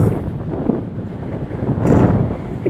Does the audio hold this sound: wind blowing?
yes